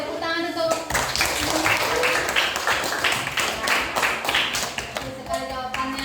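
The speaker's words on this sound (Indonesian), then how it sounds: "Senang sekali, tepuk tangan untuk" Classroom clapping from students in an Indonesian civics lesson, a burst of hand claps lasting several seconds at moderate loudness, with a teacher's voice speaking before and after.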